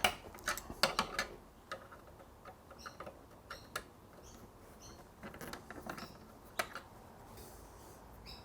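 Socket head bolts being loosened and removed from the ignition switch shroud of a Benelli 1130 TnT motorcycle, heard as a scattered series of faint, close metallic ticks, clicks and light creaks with quiet gaps between, no talking.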